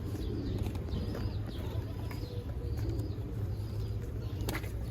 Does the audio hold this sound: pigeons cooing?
yes